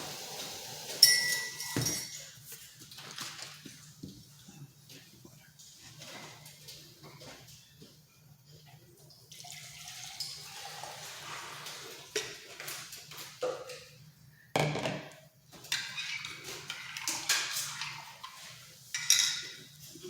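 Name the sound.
stirring coffee with a spoon in a glass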